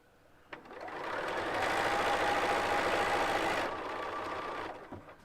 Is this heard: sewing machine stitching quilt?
yes